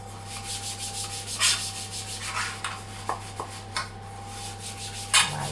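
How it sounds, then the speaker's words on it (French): A cake tin is greased with oil or butter for a yogurt cake, giving close, repeated rubbing strokes with a few sharper scrapes over a steady background hum. "on frotte le moule bien partout"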